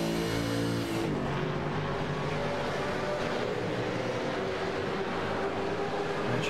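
Onboard race car engine of the 919 in iRacing at Silverstone, a loud, steady droning roar with a shift in pitch near the start, then a continuous sustained engine hum close to the listener.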